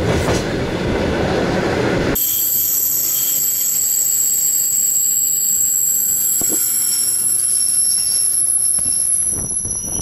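An electric commuter train in Moscow rolls along loudly with a steady rumble, high whining tones and occasional rail clatter, close by, no voices.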